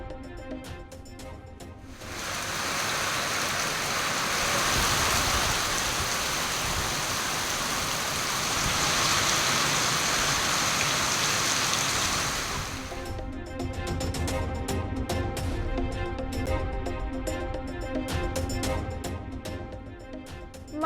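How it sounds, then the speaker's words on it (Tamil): Heavy rain pours down in a dense, steady hiss around the Kulithalai area, starting abruptly and holding strong for about ten seconds before cutting away to quieter background. "குளித்தலை சுற்றுவட்டார பகுதிகளில் வெளுத்து வாங்கிய கனமழை"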